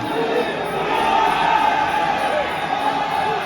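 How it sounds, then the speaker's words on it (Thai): A large crowd at a Muay Thai boxing match roars and cheers continuously, a dense wash of voices at steady volume throughout. "เสียงเชียร์ดังครับ"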